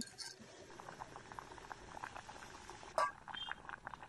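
A pot of Rohu fish curry with potatoes bubbles and simmers, a soft steady boiling texture with a brief clink of the lid or utensil near the end.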